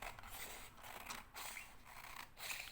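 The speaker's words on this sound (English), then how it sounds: "And I am going to cut it because it's quicker." Scissors cut through paper while trimming a junk journal envelope pocket, a quiet rhythmic series of close snips and crisp rasps, about four or five strokes.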